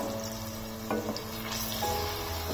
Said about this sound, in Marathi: मीडियम गॅसवर हा कांदा आपण छान असा परतून घेऊया